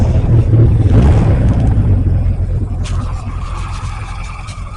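A restored 1980 Kawasaki Z1R KZ1000 MKII motorcycle with 30,000 miles fires up and settles into a steady, loud, close idle, a deep continuous rumble that eases slightly toward the end.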